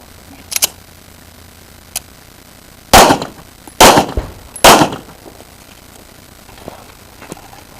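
Pistol shots fired on an IDPA shooting stage, with one early shot, then three loud, sharp, close reports about a second apart, plus fainter pops and clicks around them and no talking.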